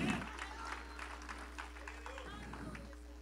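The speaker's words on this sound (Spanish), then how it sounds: "Alguien dele un aplauso al Señor por la agua." A church congregation bursts into applause during an evangelical service, a dense wash of clapping and crowd noise loudest at the start, then continuing steadily over a low sustained musical hum.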